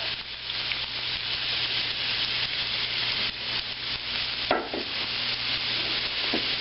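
Onions frying in hot coconut oil give a dense, even sizzle close by, with a few brief scraping stirs of a utensil in the pan and no one speaking.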